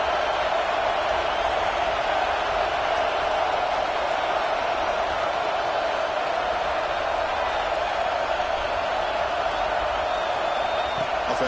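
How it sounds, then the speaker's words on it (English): A large football stadium crowd roars steadily at a college game involving LSU, urging the defense toward a red zone stop, a dense continuous wall of noise throughout. "This crowd is trying to inspire this defense to make a big red zone stop."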